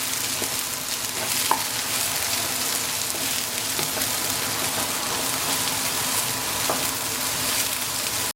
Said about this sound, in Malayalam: ഇനി ഇതിലേക്ക് ക്യാപ്സിക്കം ഇട്ട് കൊടുക്കുക. അത് നന്നായിട്ടൊന്ന് ഇളക്കുക.